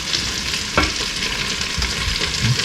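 An onion, carrots and potatoes sizzle while browning in a pan, a loud steady frying hiss up close with occasional stirring scrapes and clunks, and no speech.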